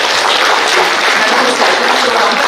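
A large audience at an HR community event breaks into sustained applause, a dense, even wash of many hands clapping at once, close and loud for the whole stretch, with no talking over it.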